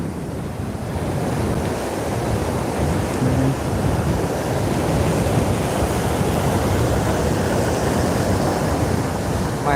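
Saltwater surf rolls in steadily along the shore at night, a loud continuous wash of breaking waves mixed with gusty wind buffeting the microphone.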